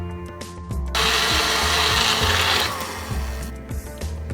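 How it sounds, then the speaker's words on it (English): A kitchen blender grinds mango pulp with a spoonful of milk, starting abruptly into a loud, steady whirring roar that holds for a couple of seconds before easing down, heard close with no talk. "now I will grind the mango. I am adding about 1 tablespoon milk."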